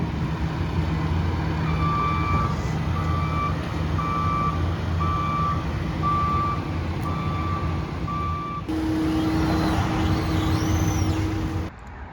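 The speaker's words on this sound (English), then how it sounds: "So he's gonna go ahead and get that forklift over here." A forklift moves about outdoors at a work site, its reversing beeps repeating at a steady pace over a loud, continuous engine drone. Near the end the beeping stops and a higher, steadier engine tone takes over.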